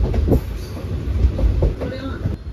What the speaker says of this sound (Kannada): ಟ್ರೈನ್ ಈಗ ಬಲಿಯಿಂದ ಡಿಪಾರ್ಟ್ ಆಗ್ತಾ ಇದೆ